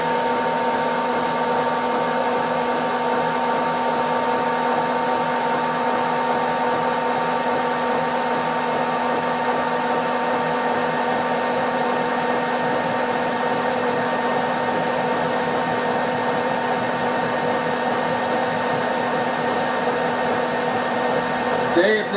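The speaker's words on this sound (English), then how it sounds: "Very little point in having a milling machine if you're not going to use it to mill slots with." A milling machine milling slots, a steady whining drone of the motor and cutter with sustained tonal hum and grinding texture, constant and close for the whole stretch, with no distinct talking.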